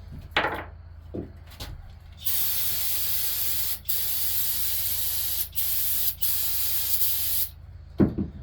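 Bolts pulled from a K24A engine build, dirty and greasy, are sprayed with cleaner from an aerosol can in several long steady hisses broken by short pauses, with a few knocks and clicks before and after.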